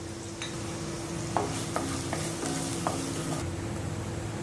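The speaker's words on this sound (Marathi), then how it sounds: "गॅसचा फ्लेम हाय करून आपण कांदा व आलं घालून" Onion and ginger sauté in hot oil over a high flame as a base for Malvani fish curry, producing a continuous, close sizzle punctuated by a few light spatula taps.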